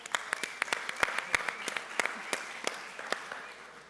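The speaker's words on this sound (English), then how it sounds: "we want to give you a round of applause." A small group applauding, brisk scattered claps at close range, fairly quiet and lasting a few seconds with no talking.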